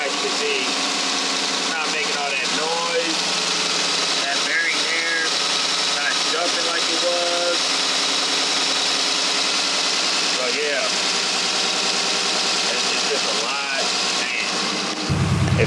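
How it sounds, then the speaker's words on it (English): A 2015–2020 Dodge Charger 392 Hemi V8 idles steadily after a water pump replacement, a smooth, even rumble close by, with a person talking over it for much of the time. "So I'll give it a little start up so y'all can hear how quiet it is now as compared to yesterday."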